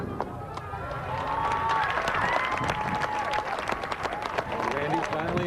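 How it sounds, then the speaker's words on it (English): A crowd cheers and applauds at a space memorial service and launch at a space center. The sustained, dense clapping and shouting runs throughout at close range. "part celebration, with cheering at the funeral"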